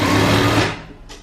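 Sewing machine stitching kameez fabric along a marked line, a loud close whirring run that stops abruptly partway through, followed by a short faint mechanical rattle.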